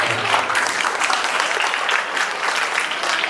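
An audience at a school event on the Constitution applauds steadily, dense continuous clapping holding at an even level throughout.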